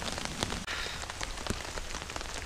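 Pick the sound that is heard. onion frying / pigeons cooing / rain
rain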